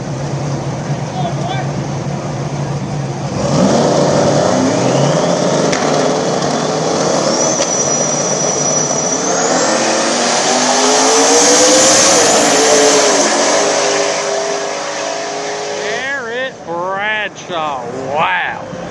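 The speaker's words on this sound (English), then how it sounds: "Jarrett Bradshaw, Team Denver, taking on Austin, the Silverback Turbo S10." A turbocharged S10 pickup runs a small-tire no-prep drag race at a winner's bracket main event, engines roaring and rising in pitch as the cars launch and pass, loud and continuous with crowd noise.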